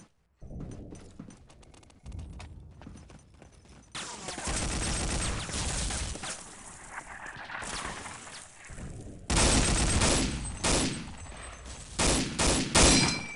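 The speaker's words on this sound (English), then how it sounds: "They got an MG behind the church." Machine gun fire in the shooter game Day of Defeat comes in loud, dense bursts of rapid automatic shots, separated by quieter gaps with scattered single shots, close and harsh.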